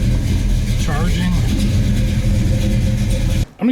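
A 1972 Pontiac Firebird Formula engine running steadily at a loud, close idle, with a brief rev partway and talk over it, cutting off near the end.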